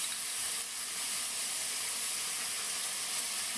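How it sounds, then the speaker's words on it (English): Onions, ginger and garlic saute in a pan over a medium flame, giving a steady, close sizzling hiss that runs unbroken with no voices. "saute these onions, ginger and garlic together on medium flame till we get a light golden color to our onions"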